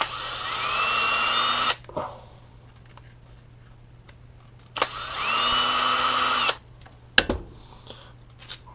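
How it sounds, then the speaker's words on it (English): A power screwdriver backing screws out of a Gaui Eclipse E28R model helicopter, two close whirring bursts of about two seconds each, separated by quiet handling clicks and a sharp tap. "there's going to be 1, 2, 3, 4, 5, 6, 7, 8 more screws to get the top off"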